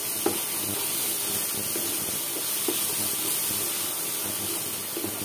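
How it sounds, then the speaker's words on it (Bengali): Steady loud sizzling hiss of ginger and garlic paste frying with onions in a hot pan, continuous and close, with a few faint clinks underneath. "আদা রসুন বাটাগুলোকে আমি একটু পেঁয়াজের সাথে ভেজে নেব"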